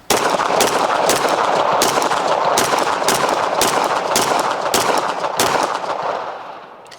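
A Springfield Prodigy pistol fires about ten evenly spaced, deliberate shots outdoors, each a sharp loud crack over a ringing wash, with the echo fading out at the end.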